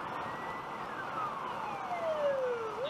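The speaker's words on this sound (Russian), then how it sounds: "Еще одна пожарная проехала только что." A fire engine siren passes by a car on a road trip, a loud sweeping wail that slides downward in pitch as the truck goes by, over steady road noise.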